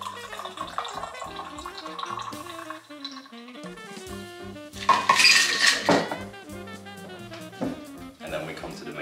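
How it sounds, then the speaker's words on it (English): A cocktail is poured slowly from a shaker into a Prosecco glass, with liquid trickling and splashing and glassware clinking and rattling, loudest midway, while a person talks over it. "I'm going to pour that in slowly."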